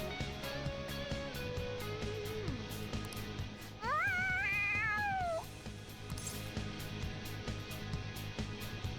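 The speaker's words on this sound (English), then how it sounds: "The cat's acting awfully excited." An excited cat in the video game Persona 5 gives several drawn-out, wavering meows, one loud and rising, over a steady game music bed.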